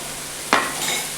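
Garlic and greens frying in a pan, with a single sharp scrape of a spoon stirring against the metal followed by a soft, close sizzle.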